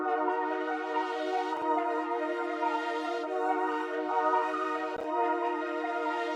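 A bright, layered synth melody with processing effects plays continuously at steady volume, sustained tones with brief dips, no voices.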